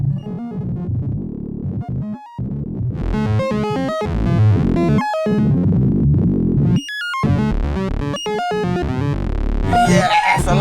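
Loud, busy modular synthesizer sequence, a Roland System 500 modulated by white noise, of bleeping, warbling tones and noisy distorted bursts, jumping rapidly in pitch like chattering robots.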